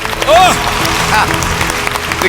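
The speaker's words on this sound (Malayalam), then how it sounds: "നല്ലൊരു കൈയടി." An audience at a live comedy stage show claps, a dense burst of applause mixed with an energetic voice and cheering, loud and close, swelling briefly before settling.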